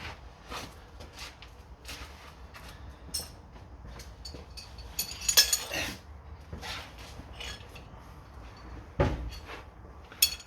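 Metal clinks and clanks while a wrench loosens heat-seized rear exhaust bolts on a Rover 600, a few sharp taps and scrapes spread over the clip, faint to moderate and close by.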